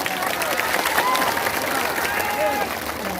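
A crowd at a Congress party political rally in Bihar applauds steadily, dense clapping with scattered cheers, loud and sustained, with a voice on the public address faintly over it.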